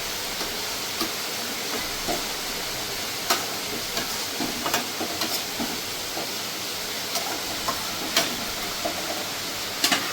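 Fish curry of hilsa with raw banana and potato simmering in a pan on a gas stove, giving a steady soft bubbling hiss with faint scattered ticks and pops throughout, no talking.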